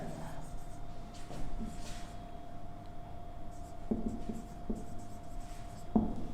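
Marker or chalk writing on a board during a biology lecture, heard as scattered scratchy strokes and taps under steady room noise, with a few sharper knocks near the end.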